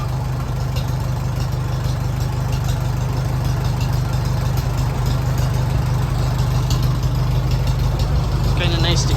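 An old farm tractor engine idles down close by in a loud, steady low rumble with an even chugging pulse that holds throughout.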